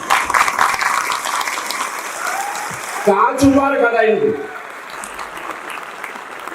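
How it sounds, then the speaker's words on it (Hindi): Audience clapping at a motivational speech, a dense burst of applause that fills the opening seconds and then fades as a voice speaks over the tail. "मुझे चाहिए कि मैं ताली बजाऊंगा आपके लिए।"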